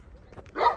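A newly arrived dog at an animal shelter gives a single short bark close by at the end, after a moment of faint rustling.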